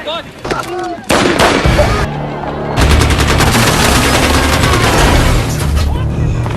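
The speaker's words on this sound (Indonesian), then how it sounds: "pasukan Alpha yang diperbolehkan untuk menembak sesuka hati tanpa memperdulikan warga sipil yang ada di sekitarnya" Bursts of gunfire from the action film The Gray Man, rapid automatic volleys with booming impacts over a dense, loud movie soundtrack, building into sustained heavy firing with some talk mixed in.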